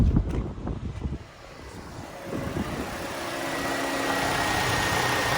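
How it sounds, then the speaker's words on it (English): A 2013 Toyota Camry sits idling at an auction lot, its engine giving a steady low hum with a brief clatter at the start, then a smooth, even drone mixed with light wind noise. "Let's take a look at the engine, how it runs."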